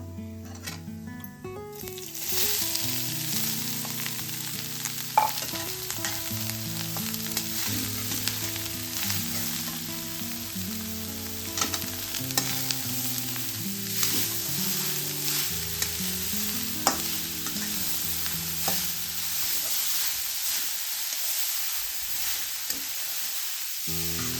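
Carrots and peanuts fry and sizzle steadily in a pan for carrot halwa, with a spoon stirring and scraping throughout; a constant close hiss with scattered clinks, alone over about twenty-four seconds.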